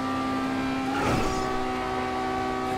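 Engine of an Autarch supercar in the video game GTA 5, a steady droning hum with tonal harmonics and a brief louder swell partway through, heard alone without talk.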